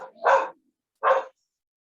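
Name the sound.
dog barking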